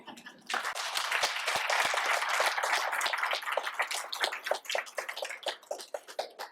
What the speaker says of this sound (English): they deserve a huge round of applause. So let's applaud them